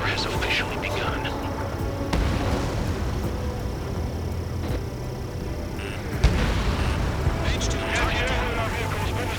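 Anti-aircraft gunfire and explosions in the video game Ace Combat 7, a continuous rumbling battle din with sharp impacts and blasts, heard under shouted radio chatter.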